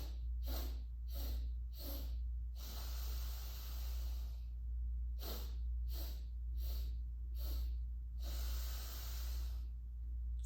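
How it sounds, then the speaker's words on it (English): Meditation breathing through the nose in a repeating cycle: four short, sharp inhale strokes followed by one long, hissing exhale, heard twice, close to the microphone over a steady low hum. "Inhaling 4 strokes,"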